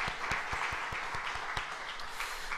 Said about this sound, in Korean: 지키신 하나님께 영광의 박수로 돌려드리십시다